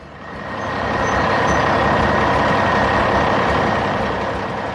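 An orange truck carrying red blocks drives along a road, giving a steady, loud engine rumble with a broad hiss that swells in and holds evenly throughout, with no voices.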